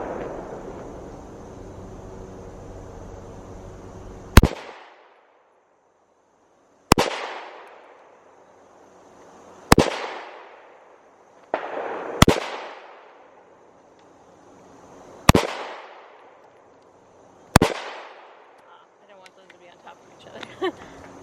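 Six sharp, loud 9mm pistol shots from a Smith & Wesson Shield Plus Carry Comp, fired one at a time with pauses of two to three seconds and each crack trailing into a short decay, outdoors at a range.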